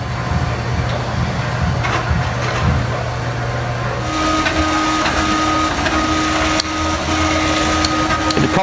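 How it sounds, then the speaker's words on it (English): A 3D printer printing an ABS part gives off a continuous motorised whirring hum with steady tonal whines that change pitch partway through, plus faint clicks, close and without talk. "let's have a look how Sean made it now on the 3D printer"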